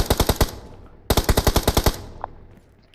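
Two rapid bursts of automatic gunfire from the video game Genshin Impact, each a quick run of evenly spaced loud shots, the second burst longer and trailing into a faint electronic tail.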